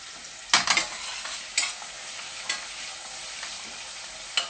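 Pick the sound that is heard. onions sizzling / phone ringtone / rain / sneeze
onions sizzling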